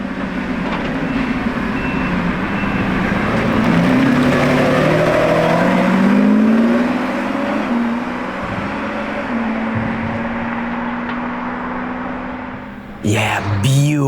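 A Lamborghini Revuelto passes outside the factory, its engine swelling and revving with rising and falling tones, loud and close, before a sharp burst of noise at the end.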